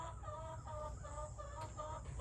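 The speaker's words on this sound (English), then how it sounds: "The drama of the rogue chicken." A rogue hen clucking in a farmyard near a wagon, repeated short clucks in a steady rhythm, fairly close and quiet, with no one talking.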